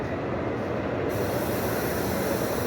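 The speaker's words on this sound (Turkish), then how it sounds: "Frankfurt tren istasyonu Hochbahnhof büyük tren istasyonu içerisindeyiz artık" Steady, dense ambience inside the large Frankfurt main railway station hall, a continuous loud wash of rail noise and reverberant crowd murmur with no distinct events, no clear speech.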